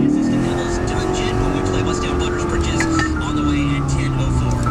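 Lexus IS F accelerating hard from 0 to 60, a loud, continuous engine roar that climbs steadily through the run, heard from inside the car with some background noise.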